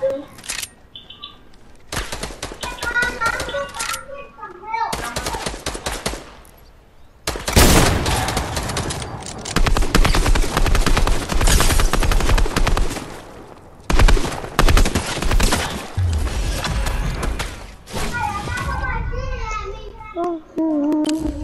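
Fortnite video game gunfire, loud bursts of rapid automatic shots over a long stretch in the middle, with children's voices talking before and after the firing.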